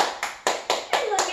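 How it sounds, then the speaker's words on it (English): Children clapping in rhythm to open a performance, five sharp, evenly spaced claps close by, with some young voices in between. "We're going to start by clapping"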